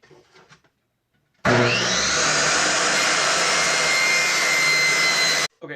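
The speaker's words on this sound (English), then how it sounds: "it's a lot easier to use the miter saw" A miter saw spins up and cuts through wood for a kitchen chalkboard, a loud sustained whine and rasp lasting about four seconds after a brief quiet lead-in, then cutting off abruptly.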